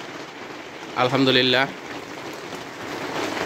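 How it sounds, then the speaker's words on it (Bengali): Heavy rain falls on a rainy day around caged quail, a soft, even hiss throughout, with a man's short spoken phrase briefly over it. "বর্তমানে প্রচুর বৃষ্টি হইতেছে।"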